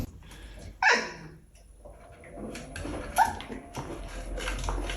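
A new puppy gives a sharp, loud yelp or bark and then softer whimpers and yips, close by, amid light household movement.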